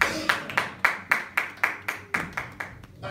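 A church congregation claps in a steady rhythm, about eleven even claps in three seconds, moderately loud with a little room echo.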